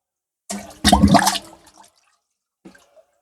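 Water splashing as it is poured from pots into drinkers on a poultry farm, with a short loud gush, a fading trickle, then a brief faint splash near the end.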